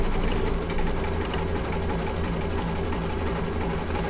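An embroidery machine stitches underlay with a fast, continuous mechanical whir and rhythmic needle chatter, steady and close throughout.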